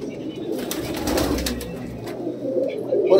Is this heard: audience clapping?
no